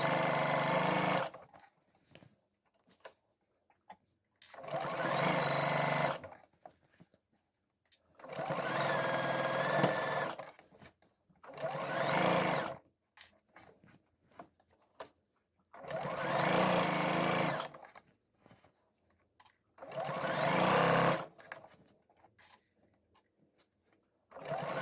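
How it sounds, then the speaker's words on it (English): A sewing machine stitches a hem around the leg of a pair of shorts, running in six steady whirring bursts of a few seconds each, separated by quiet pauses, close and clear with no talk. "you're going to sew all the way around the leg of the shorts"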